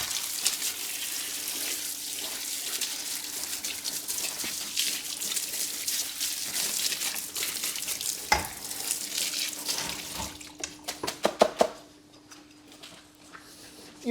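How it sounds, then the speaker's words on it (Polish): A carpet-cleaning brush rinsed under running water in a carpet-washing workshop, a continuous splashing hiss that cuts off near the end, followed by a few sharp knocks and drips in quieter surroundings. "Szczotkę od razu płuczemy."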